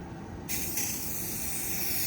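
An aerosol can of Rust-Oleum Rust Remover spray hisses steadily and close up onto a panel of a 1969 Chevelle, starting abruptly and holding a continuous spray for over a second.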